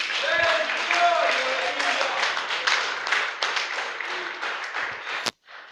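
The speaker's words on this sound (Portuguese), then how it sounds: "mais uma salva de palmas ao Senhor que nos ensina isso" A church congregation claps in dense, sustained applause for about five seconds, with voices mixed in, before it cuts off abruptly.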